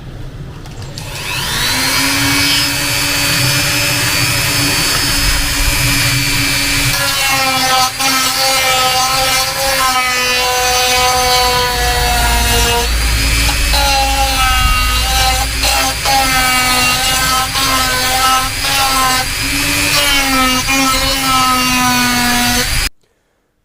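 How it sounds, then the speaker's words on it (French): Abrasive sanding disc grinding and shaping the metal chassis of a custom motorcycle build in a workshop, a loud continuous whining grind with shifting pitch running the full length, close and alone without talk. "j'utilise une bande à poncer, un ronde comme ça, un disque abrasif"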